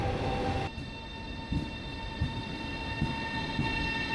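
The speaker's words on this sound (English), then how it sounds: "soon my train, an ETR500, arrives from Trieste Centrale" An ETR500 high-speed train rumbles steadily in a station, with a sustained high whine from its motors and a few soft clunks of wheels over joints as it draws in.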